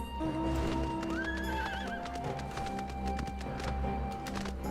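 A steed mount in Final Fantasy XIV gallops with rapid rhythmic clip-clop hoofbeats, and a whinny rises briefly early on over a busy game soundscape.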